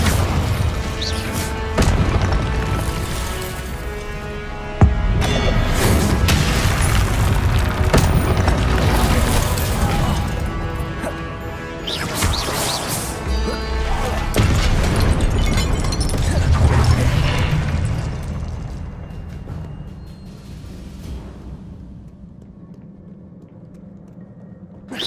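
Repeated Confringo explosive spell blasts and fire spells in Hogwarts Legacy on PS5 produce a series of heavy booming impacts and crackling bursts in combat, loud and sustained before dying down near the end.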